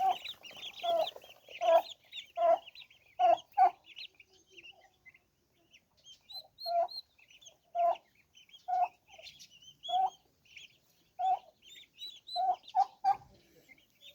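Hens and young chicks cluck in a poultry yard in a steady run of short, close, fairly loud calls with brief pauses between them, and fainter higher chirps scattered through.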